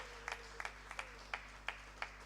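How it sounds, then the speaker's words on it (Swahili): Hands clap at a steady beat during a church service, about seven sharp, faint claps spaced evenly over a low constant hum. "Pigie Yesu wetu makofi na vigelegele"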